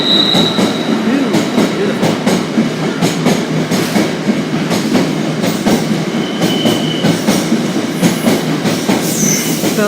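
A Class 66 diesel locomotive hauls a freight train through Stockport station, a steady loud rumble of wagons with rhythmic wheel clatter and brief squeals, continuous for the whole stretch with no talk.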